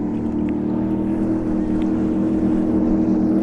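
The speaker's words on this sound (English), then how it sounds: "a boat out there that's really noisy and gets great gas mileage" A noisy motorboat out on Lake Havasu, its engine a steady low droning hum held continuously at moderate distance, with faint wind in the background.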